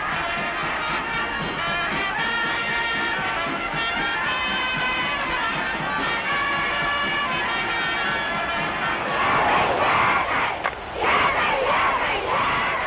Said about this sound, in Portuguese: As líderes de torcida do colégio Booker T. Washington de Norfolk, Virgínia, usam pergunta e resposta para motivar a multidão